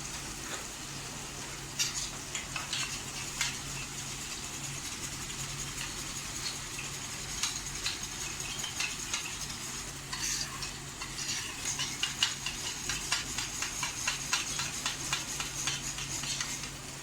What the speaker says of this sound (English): And in this masala, I am going to add some curd also.